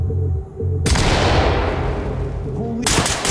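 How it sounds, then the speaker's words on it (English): A flashbang detonating in the tactical shooter Ready Or Not: one sharp, loud blast with a long ringing decay, followed by a further burst of noise near the end. "Okay, readying flashbang."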